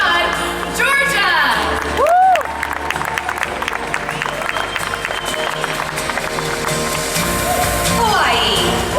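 A crowd at a Miss USA preliminary swimsuit competition in Las Vegas cheers, whoops and applauds under a loud announcer's voice, with shouts rising and falling across the arena and a swell of cheering near the end.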